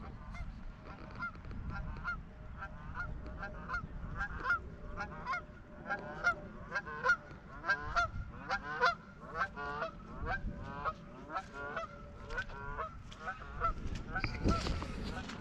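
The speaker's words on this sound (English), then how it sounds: "Got a few Canada geese around." Canada geese honk repeatedly on a farm, a steady chorus of calls at moderate distance that rises and falls over a low background rumble, with no one talking.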